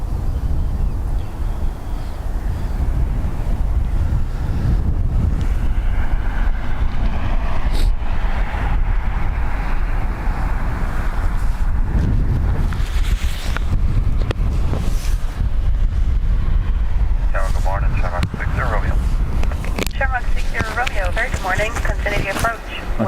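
Strong gusty wind at Dublin Airport buffets the microphone with loud, continuous rumbling and roaring, along with faint higher tones later on.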